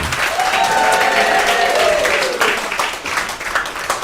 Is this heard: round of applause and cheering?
yes